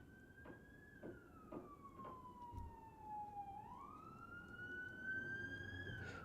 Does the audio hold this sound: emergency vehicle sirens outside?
yes